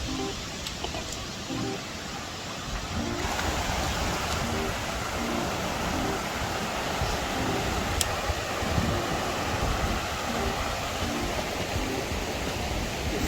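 Steady, broadband rushing roar of a waterfall in Morocco, continuous and fairly close, filling the whole span with little variation after a quieter opening few seconds.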